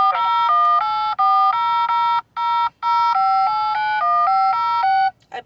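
Phone keypad buttons are pressed on an automated phone line, producing a quick run of clean electronic beeps, about a dozen in a row, with a few short pauses between the groups.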